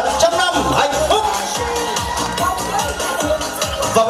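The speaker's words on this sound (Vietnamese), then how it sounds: "Một tràng vỗ tay thật lớn để chúc mừng hạnh phúc trăm năm và trăm năm hạnh phúc." Wedding guests at a ceremony applaud and cheer loudly and continuously, a dense close crowd with whoops mixed into the clapping.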